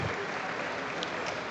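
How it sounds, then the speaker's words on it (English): Applause welcoming dignitaries on the dais at a university foundation day ceremony, dense steady clapping from a large audience, filling the hall evenly and continuing without a break. "please have a huge round of applause to welcome the dignitaries on the dais."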